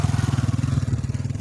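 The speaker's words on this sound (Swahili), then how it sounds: "Hapa nimeona mpaka pikipiki zinapita" Motorcycle engine close by with a rapid, pulsing low putter, steady throughout a brief moment.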